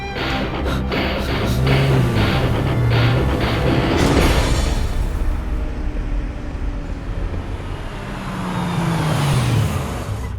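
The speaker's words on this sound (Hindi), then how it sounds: "तो चल गाड़ी चला जल्दी" A car being driven rumbles steadily with road and traffic noise, engine tones sliding up and down as it shifts speed, continuous and close.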